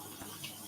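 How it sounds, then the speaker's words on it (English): Water gushes into a Whirlpool washing machine at strong pressure, a steady close hiss of running flow with no speech. "Look at that water pressure."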